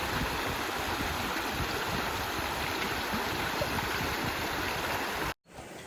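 Mountain stream water rushing steadily through a campsite, a dense continuous loud flow close by that cuts off abruptly near the end, leaving a quieter wash.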